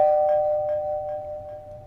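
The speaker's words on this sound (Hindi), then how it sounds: "तब वहां पर डोरबेल की आवाज सुनाई दी।" A doorbell rings indoors with a single sustained electronic tone that slowly fades over a couple of seconds.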